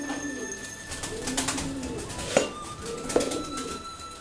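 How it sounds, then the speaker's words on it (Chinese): Young pigeons at feeding time give soft, low cooing calls near at hand, mixed with light pecking taps and a couple of sharper knocks. "咱现在来喂那个早几天提前下窝的那几个小鸽子"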